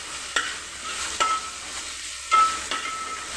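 Spices for tempering sizzle softly in oil, with a steady low crackle broken by a few sharp stirring knocks from a spoon against the pan.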